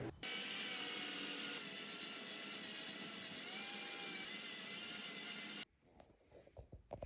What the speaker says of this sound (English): I'm just gonna try to clean this up with like a 220 grit stone